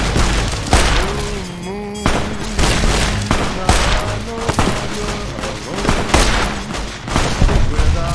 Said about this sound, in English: We got Eddie on the lasers, and we got Boone with the sniper rifle.